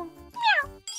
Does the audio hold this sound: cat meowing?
yes